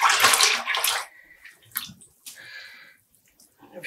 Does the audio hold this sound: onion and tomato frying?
no